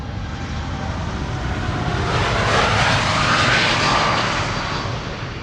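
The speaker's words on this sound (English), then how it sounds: "This is KLM flight 691 to Toronto in Canada. 7879 Dreamliner, the PHB HN, 7 years old." Steady, loud jet roar from a KLM Boeing 787-9 Dreamliner departing Amsterdam Schiphol, swelling slightly toward the middle as the airliner passes close by, with no voices.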